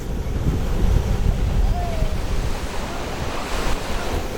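Strong ocean waves wash and crash onto a sandy, eroding shore, a continuous loud roar of surf with wind buffeting the microphone.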